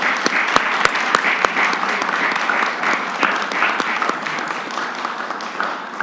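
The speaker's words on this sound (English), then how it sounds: "can we have a big round of applause for our panelists today?" An audience at an accounting forum gives its panelists a hearty round of applause, a broad wash of clapping with a few crisp close claps near the start, gradually easing toward the end.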